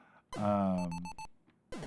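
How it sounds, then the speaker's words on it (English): A short series of evenly spaced electronic warning beeps sounds in an Atari 2600 M-Network game, between bursts of a voice. "when you hear that beep, beep, beep, you want to be in bomb mode"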